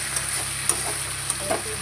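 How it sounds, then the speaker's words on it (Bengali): Fish fat sizzling in a frying pan during home cooking, a continuous bright hiss with a few small pops and the light scrape of stirring, close and without talk. "মাছের তেলটাকে ভেজে দিই।"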